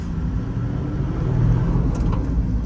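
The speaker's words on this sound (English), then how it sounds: "Oh, the sound of the snorkel here. Listen to it." A Land Cruiser LX V8's low, steady engine rumble with a rushing whoosh of air drawn through its snorkel intake on a gravel desert road, loud and close, swelling slightly midway.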